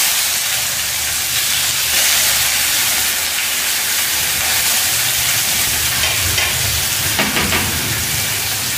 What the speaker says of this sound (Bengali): তেলের মধ্যে একটা তেজপাতা আর পেঁয়াজ কুচি